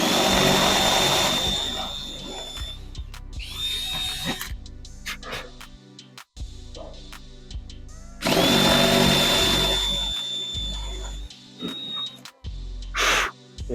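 Power drill boring holes through a wooden skateboard deck to mount skidplates, two loud close whining bursts with rising pitch, separated by quieter handling knocks and clatter.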